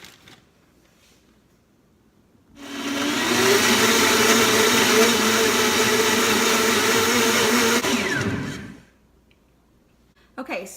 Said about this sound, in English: now that we've blended the spinach up really quite well